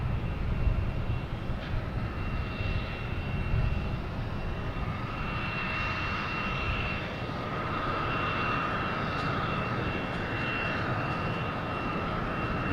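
A JetBlue jet bound for Philadelphia at Boston Logan gives a steady, moderately distant engine roar that holds for about thirteen seconds, with a broad rumbling wash and a faint high whine, and no voices.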